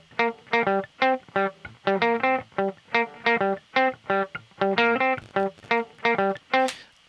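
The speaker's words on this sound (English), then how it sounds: "This is the guitar riff without reverb." Dry electric guitar riff with no reverb, a steady run of plucked, rhythmic notes and chords with clean gaps between them, close and alone with no talk.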